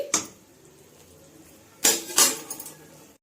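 A spoon stirs mixed vegetable soup in a pot, giving one sharp clink at the start and then two louder scraping clatters against the metal, with quieter rattles trailing off. No talking.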